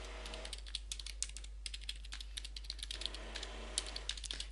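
Steady typing on a computer keyboard entering a web address, a quiet run of close, crisp key clicks in an irregular rhythm, with no voices.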